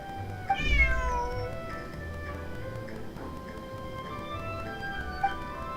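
A cat character in the video game Genshin Impact gives a clear, drawn-out meow followed by softer meows over a quiet game music bed, with no talking.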